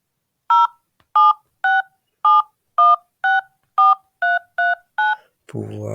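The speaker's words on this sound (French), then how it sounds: "J'ai sur mon téléphone actuellement et je vais composer du coup le numéro" Ten evenly spaced touch-tone beeps as a number is dialed on a phone, loud and clear, ending in a burst of noise.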